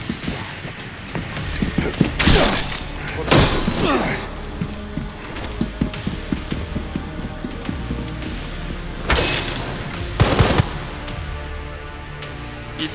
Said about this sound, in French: Il tire aussi, l'enculé.